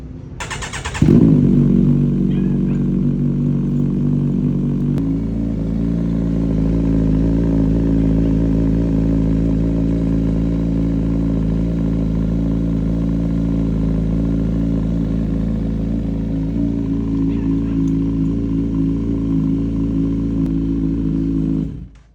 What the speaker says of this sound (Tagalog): Tunog guys ng shorty project sa idle pa lang sa pag cold start pa lang, yun yung tunog niya.